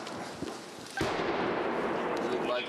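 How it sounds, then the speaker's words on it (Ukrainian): A heavy explosion from large-calibre 120mm mortar fire hits near frontline army positions by Krymske, a sudden boom that rolls into a sustained rumble, with voices audible around it. "Після того, як замовк ворожий кулемет, лунають потужніші вибухи."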